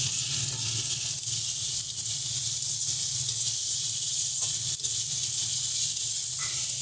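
Spice paste with cumin and coriander powder and salt, cooked with okra and prawns, sizzles steadily in a pan, a continuous bright hiss held close and even throughout, with no talking.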